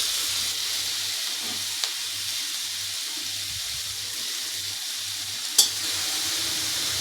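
Carrots fry in a pan with a steady close sizzle, broken by a couple of sharp utensil clicks as they are stirred.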